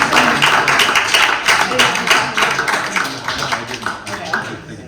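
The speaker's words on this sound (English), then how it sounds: "Let's give them all another round of applause." Demo day audience applause at a startup weekend event in Iowa City, a steady patter of many hands clapping that slowly fades, with voices talking over it.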